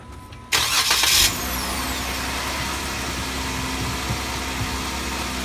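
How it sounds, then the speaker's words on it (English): A Jeep Wrangler JK engine cranks and catches with a loud burst, then settles into a steady, low idle that hums on alone. "we're gonna go ahead and start the engine and let it run for just a second"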